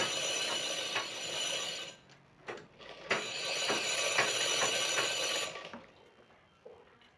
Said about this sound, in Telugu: ఓకే అండి, దారం పట్టడం అయితే మీరు చూసారు కదా.